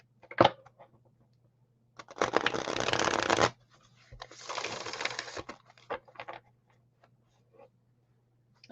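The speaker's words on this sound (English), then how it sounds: "I'm trying not to be loud with the shuffling" Playing cards being shuffled quietly indoors: two riffle bursts of a second or so each, with a few soft isolated card clicks before and after, over a faint steady hum.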